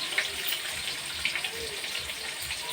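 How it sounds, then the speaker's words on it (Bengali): Onions frying in oil give a soft, steady sizzle, fairly faint and close, with no speech over it. "তেলে পেঁয়াজটা দিয়ে দিলাম।"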